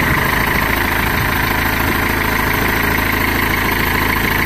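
Diesel engine of a Nissan Note idling just after a cold start, a steady, continuous close rumble with even vibration throughout and no talk.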